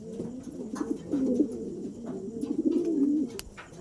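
Racing pigeons coo in a loft, low throaty rolling calls overlapping one another continuously, close and fairly loud, with a few faint taps and rustles underneath.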